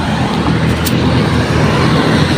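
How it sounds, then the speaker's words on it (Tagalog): Steady street traffic outside a gate, with cars passing close by in a continuous loud roadway rumble and no talking. "Ayan, mga sasakyan."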